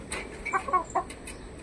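A pullet gives soft, short clucks, several scattered low calls spread over under two seconds, faint against background noise with no talk.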